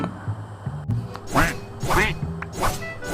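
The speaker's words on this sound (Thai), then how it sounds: "เป็นไก่เสียงเป็นเป็ดอะไรวะ" Minecraft-style duck quacks from a chicken repeat in a steady rhythm, about four in a row, with a voice talking in the background.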